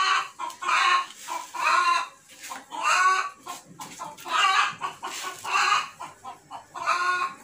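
Chickens cluck in repeated bursts close by, a loud, busy run of calls with short gaps between them and no talking over them.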